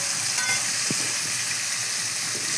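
Three small sliced onions fry on low heat in a pan for a chicken masala karam, a continuous close hiss of sizzling oil with a faint stir or scrape and no voices.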